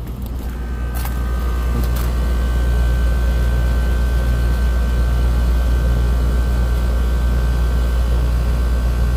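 An HVAC air conditioner unit with a compressor that short-cycles, its compressor and fan running together. A loud, constant low hum and drone with a steady tonal whine, after a couple of faint clicks at the start.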